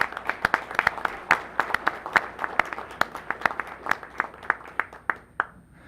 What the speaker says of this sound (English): Let's give our employees a round of applause